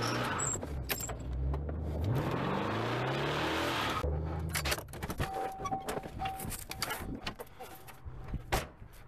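Car engine starts and revs hard for a few seconds while a vehicle is moved around a lot, then settles into a lower idle with rattles and handling noises.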